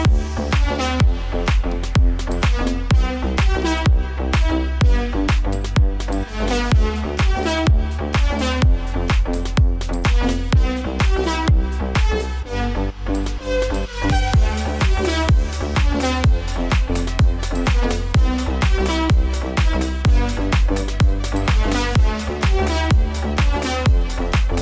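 Full future house track, with a thumping kick, bass, arpeggiated synths, drums and effects all stacked into a dense, loud, continuous mix that drives steadily throughout.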